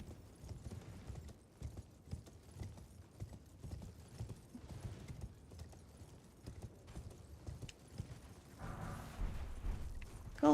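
A unicorn mount in a fantasy video game trots with a quiet, steady clip-clop of hooves that keeps up a continuous rhythm throughout, with faint background game sounds.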